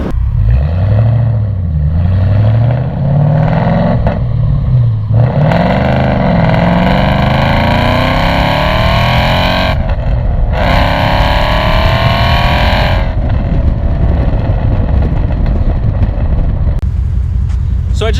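Ford 2012 Mustang GT with its 420-horsepower Coyote 5.0 V8 revs and pulls hard, pitch climbing as the engine winds up with a steady loud roar throughout, no voices.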